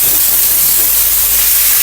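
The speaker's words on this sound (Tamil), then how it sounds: "ஸ்ப்ரே பண்ணி நம்ம க்ளீன் பண்ணிட்டுருக்கோம்" A pressure spray washes a Maruti Suzuki Fronx car during servicing at a Nexa service center, a loud, continuous hiss that stays even throughout with no voices.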